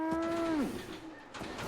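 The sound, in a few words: Brahmin (two-headed cow) mooing in video game Fallout 76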